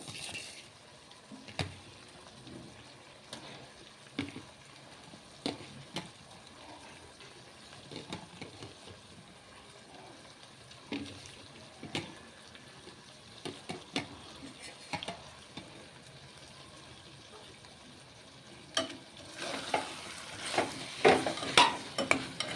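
Tomatoes frying in oil for a mutton curry, a low steady sizzle with scattered stirring clicks and taps throughout, growing busier and louder toward the end, no voices.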